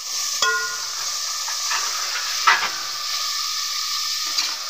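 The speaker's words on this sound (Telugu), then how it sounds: "ఆయిల్ అయితే వేడెక్కిందండి. ఇప్పుడు ఆనియన్, పచ్చిమిర్చి, కరివేపాకును అయితే వేసేస్తున్నాము." Onion, green chillies and curry leaves hit hot oil in a pan for a goat head curry, giving a steady bright sizzle with a few stirring scrapes and clinks, close and continuous with no talking.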